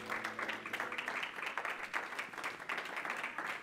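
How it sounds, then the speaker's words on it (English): A church congregation claps in praise at a Sunday worship service, a dense, steady wash of many hands lasting throughout, moderately distant with no clear voices. "Let's give God a hand clap of praise real quick"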